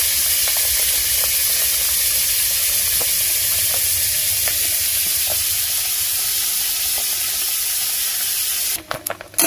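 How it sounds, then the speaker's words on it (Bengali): Pieces of pointed gourd frying in hot oil in a wok, a steady loud sizzle with crackling pops throughout, close by with no voices, ending in a brief clatter. "আমার কড়াইতে তেল দিয়েছি, তেলটাও গরম হয়ে গেছে। তো পটলটা আবার ভেজে নেব।"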